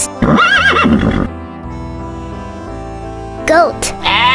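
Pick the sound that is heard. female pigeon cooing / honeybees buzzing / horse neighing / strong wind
horse neighing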